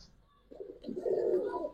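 One quality pigeon at a Bangladeshi pigeon seller's coos at close range in a soft, throaty, rising call that swells and holds for about a second.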